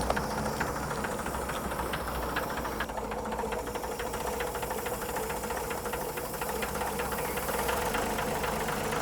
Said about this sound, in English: It's just idling way low.